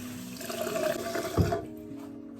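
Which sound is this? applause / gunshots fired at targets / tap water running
tap water running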